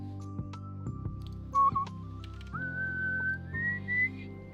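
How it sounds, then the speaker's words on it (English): A person whistles close into a microphone during a live Pokemon TCG Pocket tournament stream, giving short clear tones that step up in pitch over a steady low background hum. "Oh, I forgot I shouldn't whistle."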